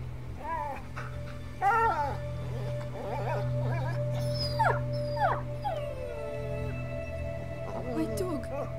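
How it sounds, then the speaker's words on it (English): A dog whines and howls in the video game A Plague Tale: Innocence, drawn-out wavering cries and whimpers rising and falling over a steady low hum, with short pauses between calls and no talk. "Come here, you little doggo."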